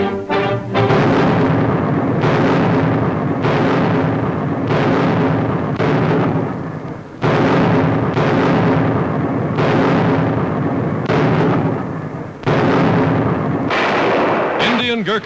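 Repeated loud, booming blasts from British artillery firing in World War II Tunisia, a heavy report roughly every one to two seconds with long rumbling tails across the whole stretch.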